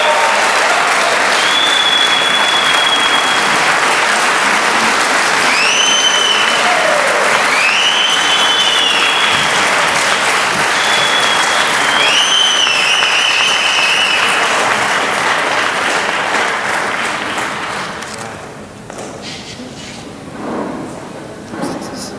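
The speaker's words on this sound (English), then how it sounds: "Please give him a warm round of applause as he comes to the stage" Audience applause for the guest of honor at a gala award ceremony, a loud sustained round of clapping filling the hall for about seventeen seconds before fading, with cheers and a voice or two rising over it near the end.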